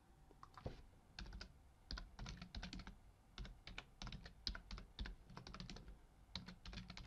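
Someone types rapidly on a computer keyboard with quick, irregular bursts of close, crisp key clicks separated by short pauses.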